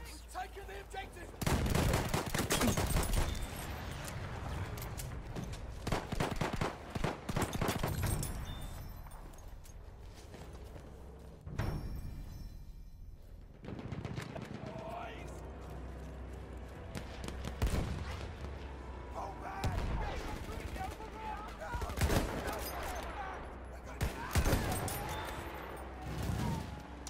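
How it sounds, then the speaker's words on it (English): Machine-gun bursts and scattered gunshots crack through a video game battle, some loud and close, others distant. The fire comes in irregular clusters with lulls between, and faint in-game voices sound now and then. "Spotted a machine gun!"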